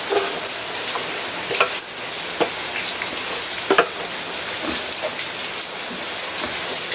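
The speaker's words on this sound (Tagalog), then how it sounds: "Haluin uli natin" Corned beef and egg stirred in a sizzling pan, with steady frying crackle throughout and occasional scrapes and taps of a utensil against the pan.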